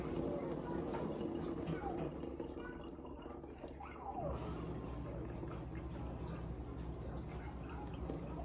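Water draining off washed rice, a steady trickling and dripping flow that runs continuously at moderate distance with a brief dip partway through, set against a busy kitchen background.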